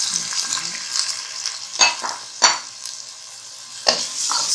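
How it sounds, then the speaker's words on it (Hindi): Masoor dal roasts in a pan over a fairly high flame, a continuous dry sizzle broken by a few sharp scraping strokes of a spoon against the pan. "इसको थोड़ा सा भूनना है।"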